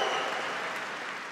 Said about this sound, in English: Can I get a round of applause for our medalists?